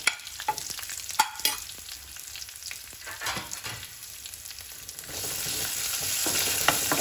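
Thick-cut onion petals hit a hot pan and are stirred, with scraping spoon clatter and light crackling that swells into a steady, louder sizzle toward the end, no talking.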